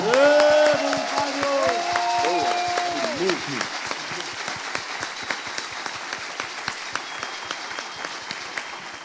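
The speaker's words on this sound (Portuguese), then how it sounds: "Salva de palmas, gente." An audience at a conference closing session applauds the volunteer team, with loud, steady clapping that settles into scattered claps and carries on for about nine seconds. A voice speaks over the applause at the start.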